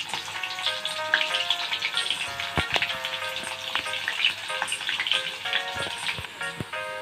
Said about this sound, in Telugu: తర్వాత వెల్లుల్లిపాయలు వేద్దాం.